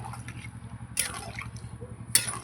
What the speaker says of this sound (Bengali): এবার আমি জল দেবো জল দিয়ে দিলাম